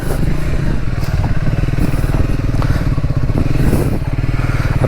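Motorcycle built for speed rather than off-road use, ridden over a rough mountain trail on the way to Kalsubai; a steady, loud engine drone with constant rattling, clattering and thumps from the bumpy ground throughout.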